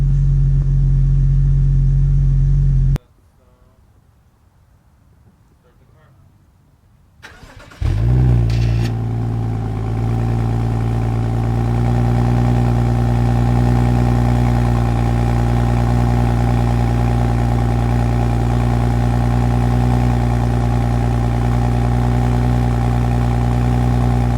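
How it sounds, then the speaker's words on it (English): A loud BMW GTS engine with a Bootmod3 tune drops out briefly, then restarts and idles at a heavy, steady rumble with a deep exhaust tone, exhaust flap open. "And you could tell it opened up the exhaust flap."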